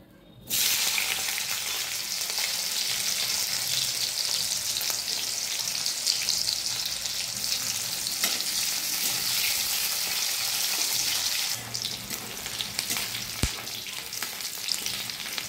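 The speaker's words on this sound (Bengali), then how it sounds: "কড়াইয়ে তেলটা আমি গরম করে নিয়েছি। এবারে একটা পেঁয়াজ কেটেছি, পেঁয়াজগুলো ভেজে নেব।" Onions fry in hot oil in a kadai (wok) with a loud, steady sizzle that holds from start to finish and eases slightly near the end, with no voices.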